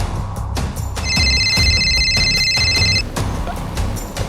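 A telephone rings on an incoming call, with a steady electronic ringtone lasting about two seconds over a noisy room background and scattered thumps.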